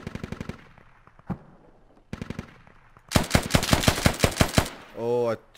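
Automatic gunfire in the video game Squad comes in rapid bursts, a short volley, then a pause and a longer, louder string of shots, ending in a brief buzzing burst.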